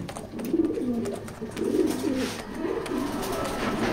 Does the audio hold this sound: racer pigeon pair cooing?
yes